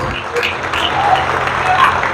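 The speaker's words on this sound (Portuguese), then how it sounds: "Aplauda ele mesmo, glória a Deus." A church congregation applauds during a sermon, a soft, continuous spread of clapping heard at a distance with steady level throughout.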